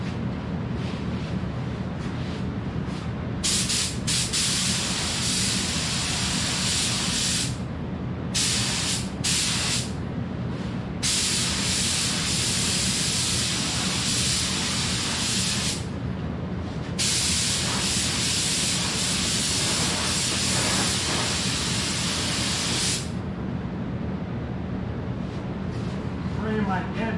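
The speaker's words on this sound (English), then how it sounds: "Gun spray." A spray gun painting a Minneapolis Moline 114 tractor in a temporary paint booth, loud hissing bursts of several seconds each with short pauses between, close to the microphone, over a low steady hum.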